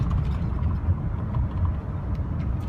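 A 2006 Chevy Silverado with the LBZ diesel engine idles, giving off a low, steady rumble with faint irregular knocks. The truck sounds close and moderately loud, and no one speaks over it.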